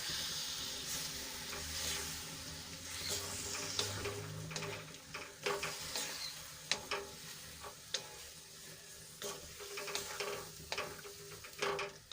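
Pieces of Kathiyawadi bajra roti are stirred into a frying spiced masala, with a soft sizzle underneath and repeated close scraping and clinking strokes of a spoon against the pan.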